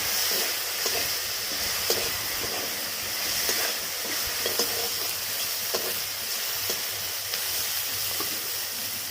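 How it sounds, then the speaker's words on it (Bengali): Prawns coated in salt and turmeric fry in oil in a kadai, producing a steady, moderately loud sizzle with small crackles and soft stirring throughout. "একই তেলের মধ্যে আমি চিংড়ি মাছগুলো ভেজে নেব।"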